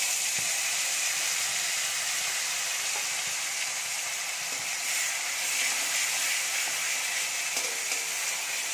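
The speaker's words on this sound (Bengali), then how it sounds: "এবার ওই একই তেলের মধ্যে যে মশলাগুলো আমি পেস্ট করেছিলাম তার মধ্যে হলুদ আর জিরে গুঁড়ো মিশিয়ে মশলাটা তেলের উপর দিয়ে দেবো" Spice paste mixed with turmeric and cumin powder frying in hot oil for an egg curry, giving a steady, dense sizzle and hiss that runs evenly throughout with no voices.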